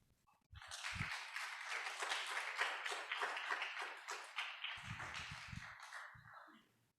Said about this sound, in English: it's nice to hear some clapping